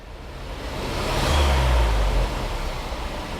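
A Mercedes GLA engine with a misfire runs steadily, a low rumbling drone that swells slightly in the middle and then settles, heard close with no talking.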